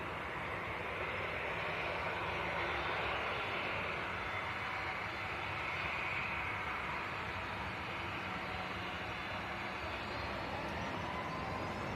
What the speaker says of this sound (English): So looks like back-to-back Ryanair departures coming up. Both of them are now taxiing out.